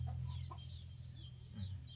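Wild junglefowl clucking, a few short soft clucks over a low steady background hum, faint and close.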